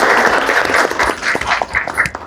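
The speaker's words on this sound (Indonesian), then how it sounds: "tepuk tangan dong" Small group applause during a talk on noncommunicable diseases, a short burst of close, uneven hand clapping mixed with voices.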